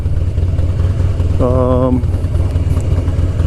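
A heavy motorcycle of roughly 700–800 pounds rumbles with a steady, loud low engine drone mixed with wind rush, and a brief tonal whine rises midway.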